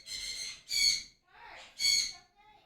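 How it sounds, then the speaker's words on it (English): Birds calling loudly outdoors, four bursts of shrill, strained calls with short gaps between them, close to the listener and heard alone without any talk. "Birds are really loud."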